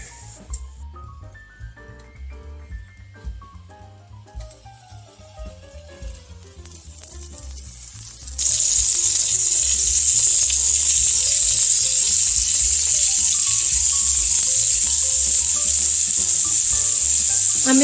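Scallops go into a hot skillet and burst into a loud, steady sizzle that starts about halfway through after a few quieter clinks and handling sounds, then holds strong and close to the end.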